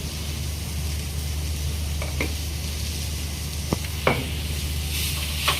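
Masala being stirred in a pan for a Tamil Nadu style mutton curry, a steady sizzling hiss with a constant low hum and a few scraping stirs, no one speaking.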